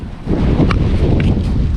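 Strong seaside wind buffets the microphone in a steady, loud low roar lasting under two seconds, with no talking.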